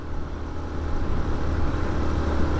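A steady, close engine drone comes from a Yamaha SZ motorcycle laboring up a steep road, layered with wind noise and holding a constant level throughout, with no speech.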